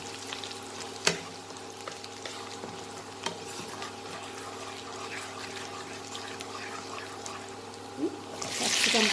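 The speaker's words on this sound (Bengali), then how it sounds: "এবার এই তেলে আমি প্রথমে আদা আর রসুন কুচিটা দিয়ে দেবো। দিয়ে 30 সেকেন্ডের মতো একটু নাড়াচাড়া করে" Chopped ginger and garlic frying in oil and being stirred, a soft continuous sizzle with a steady background hum, occasional utensil knocks, and a louder hiss rising at the end.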